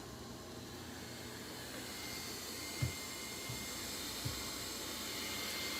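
A Lefant robot vacuum cleaner runs under a chair indoors, giving a constant broadband whirring hiss with a few faint bumps as it works.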